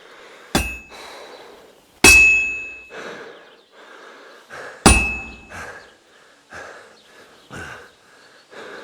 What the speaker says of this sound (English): You've got to hammer the workpiece evenly. One hit next to the other.